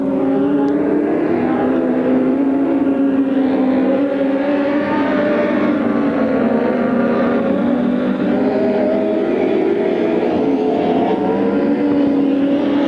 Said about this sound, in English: Tom Stansbury in the 57 car off turn 2